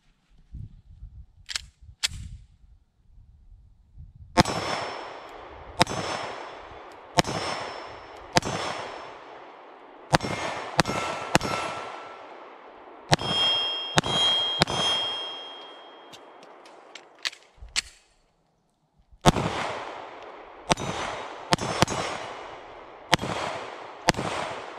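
Springfield Armory Hellcat Pro 9mm pistol fired outdoors at painted targets about 10 yards away, a long string of sharp, loud shots spaced at a fairly steady pace, with a few quicker pairs and a short pause near the end.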